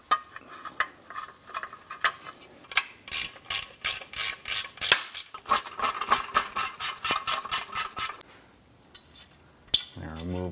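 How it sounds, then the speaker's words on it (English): Ratchet wrench tightening engine bracket bolts, two long runs of rapid, close, crisp clicks separated by a short pause, with a few isolated knocks before and after. "Get our lower bolt installed. And then get our upper bolt installed."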